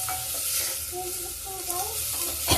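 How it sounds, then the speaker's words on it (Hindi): Onions fry in a pan for dhaba-style aloo dum with a continuous close sizzle, a few stirring clinks and a sharper scrape at the end. "ये देखिए, अब प्याज भून रहा मेरा।"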